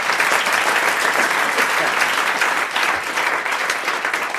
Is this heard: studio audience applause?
yes